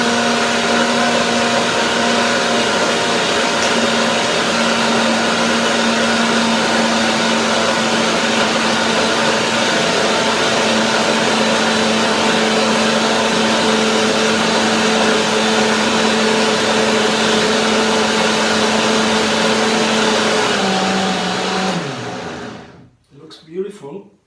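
Blender whirring steadily through strawberry pie cream filling, a loud continuous motor whine that holds for about twenty seconds, then dips in pitch and cuts off, followed by a few clattering knocks.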